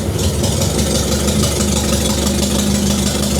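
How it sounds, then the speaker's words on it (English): A BMW K100 motorcycle engine runs at a steady idle, a continuous close mechanical drone with an even low rumble and no talking. "start the bike up."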